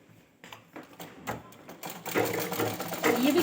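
Close sewing machine stitching panels for a ghaghra, starting in short stuttering bursts and then settling into a steady, louder run.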